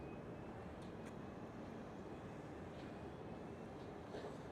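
A KLM City Hopper airliner takes off at Amsterdam Schiphol, its engines a steady, broad roar that holds at a constant level throughout, heard from a distance with no voices.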